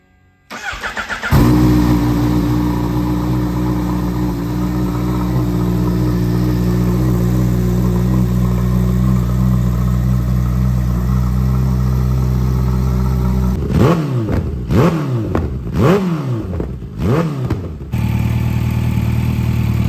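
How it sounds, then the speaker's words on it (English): A Kawasaki Ninja H2 motorcycle engine cranks and fires up, then holds a loud, steady idle for over ten seconds, followed by several sharp throttle blips that rise and fall before it settles back to idle. "So we'll fire the bike up and just let it get a wee bit of heat in it"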